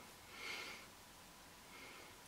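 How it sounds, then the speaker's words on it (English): A single sharp nasal sniff of an old Tommy Hilfiger aftershave, a short airy hiss near the start, then a fainter second breath, very quiet and close with no talk. "I'm going to have a sniff of that."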